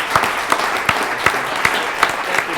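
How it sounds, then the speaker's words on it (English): An audience at a brewery talk applauds in a dense, steady wash of clapping, with a few louder individual claps standing out at regular intervals. "Let's have another round of applause for that."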